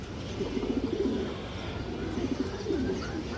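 A domestic pigeon from a Palla-line breeder's home flock coos in low, soft rolling phrases, close by, over a steady background hum.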